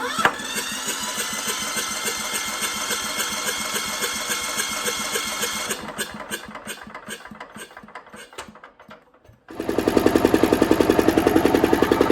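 A small engine cranks and catches after its fuel system has been bled, running with a steady rapid chug, stumbling and nearly dying, then roaring back to a loud, even idle.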